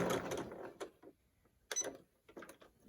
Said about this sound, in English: So we're going to back stitch and then just begin stitching around